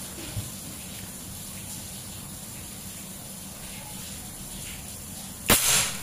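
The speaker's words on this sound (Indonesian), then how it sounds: "Tembakan kedua sebelah kanan." After several seconds of steady background hiss, one sharp PCP air rifle shot rings out near the end, followed by a brief scatter of breaking brick fragments.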